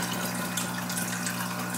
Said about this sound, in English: maybe I'm gonna suck some of the water out first